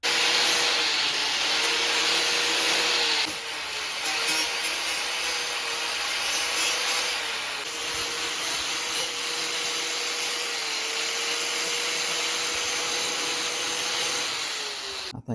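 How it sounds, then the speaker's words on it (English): A grinder smoothing the fender of a 1990 Harley-Davidson Sportster makes a loud, continuous abrasive whine with a steady tone, running for about fifteen seconds with slight shifts in pressure before cutting off at the end. "Just give it a little tickle with the grinder."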